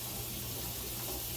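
Water runs steadily from a kitchen tap as a lid is rinsed, a continuous close hiss and splash throughout.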